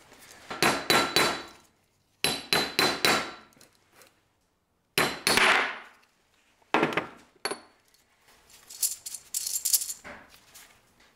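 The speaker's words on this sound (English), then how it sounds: "gotta hammer that guy off." Several bursts of sharp metallic hammer blows, hammering a part off a Jeep YJ Dana 30 axle, in quick rhythmic groups of three to five, with pauses between, close and loud, ringing slightly.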